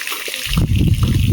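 Water sprinkled and splashed outdoors, a brief burst of loud, close spattering that starts abruptly and continues with a broad, hissing wash.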